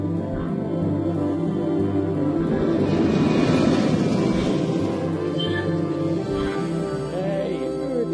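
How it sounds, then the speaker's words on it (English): Airport ambience in Paris with a steady low roar of aircraft engines swelling in the middle, a broad continuous hum filling the background with no clear voices. "Next, Jeff and John met up at the airport in Paris."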